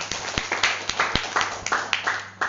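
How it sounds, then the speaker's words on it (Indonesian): A small audience at a fertilizer product presentation claps a few sharp, close claps in an uneven rhythm, with quieter hand sounds between them. "Ya, tepuk tangan dulu dong buat Awen."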